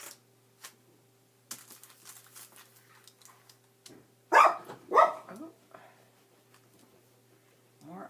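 Several house dogs barking indoors, a couple of loud sharp bursts mid-clip amid quieter scattered knocks and rustles, while ice falls off the house.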